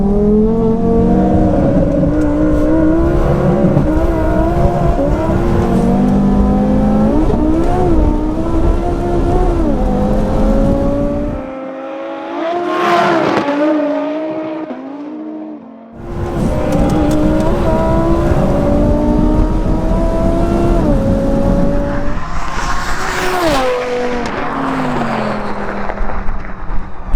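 A twin-turbo 1090hp Audi R8 and a fully built 1016hp Audi RS3 roll-race on the street. Loud engines rise through the gears as they pull away, then cut out abruptly for a few seconds before another hard-accelerating roar returns with whooshing wind noise.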